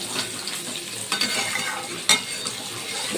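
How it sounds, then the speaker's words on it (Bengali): Potato pieces frying in oil in a separate pan, a bright steady sizzle with repeated stirring scrapes and a sharp metallic clink from the utensil, close and fairly loud, no voices. "আলুটা আমি আলাদা পাশে ভেজে নিচ্ছি"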